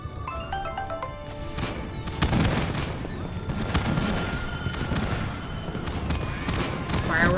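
Fireworks bursting during a winter solstice celebration in the video game My Time at Sandrock, a dense run of cracks and booms with crackling sparkle, steady and fairly close, over game music and chatter.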